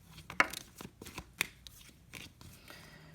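Tarot cards shuffle by hand in a quiet room, soft irregular riffles and slaps close up over a few seconds.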